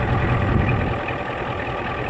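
A 1990 Ford diesel pickup, Lariat edition, idles near its exhaust with a steady low rumble and a slight chug that holds even and fairly loud throughout, with no talking.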